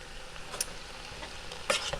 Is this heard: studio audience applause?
no